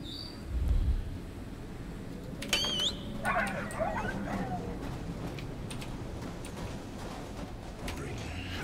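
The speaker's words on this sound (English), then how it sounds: "Oh, we have ghost dogs again." Ghost dogs in the video game Fade to Silence give a few short yelps and whimpering whines near the middle, over a low ambient game background with faint low thumps.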